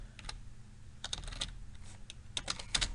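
Quiet, close bursts of computer keyboard typing, uneven clusters of key clicks with short pauses while data is entered.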